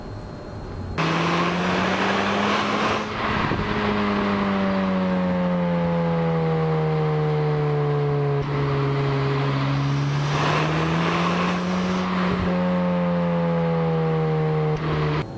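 A 2.0-litre 231 hp Audi S1 with manual gearbox revs up hard through several gears, its engine note climbing and dropping with brief breaks at each shift, loud and close throughout.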